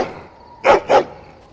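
Dog barking in Dragon Age: Origins video game, two sharp loud barks in quick succession, close and clear, after a soft background hum.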